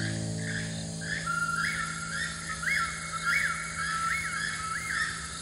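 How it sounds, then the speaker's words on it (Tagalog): A repeated rising whistled phrase, clear and fairly near, sung over and over in a steady rhythm against a low background hum. "Ang sipol na yon. Yan ang awit ko."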